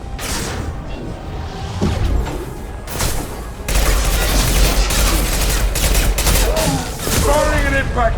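Impact shot gunfire in the Mass Effect 2 video game, heavy booming shots and a sustained rattling barrage of combat fire, loud and near, with voices calling out in between.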